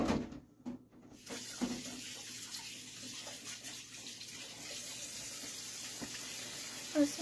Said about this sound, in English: I'm just washing my hands.